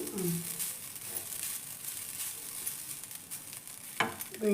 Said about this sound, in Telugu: పచ్చివాసన పోయేంత వరకు దూరగా వేయించుకొని